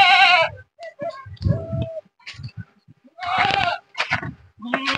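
A male goat on a village farm bleats loudly and close by, one long wavering cry at the start, followed by several shorter bleats in the second half with brief quiet gaps between.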